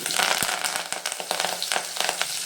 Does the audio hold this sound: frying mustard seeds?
yes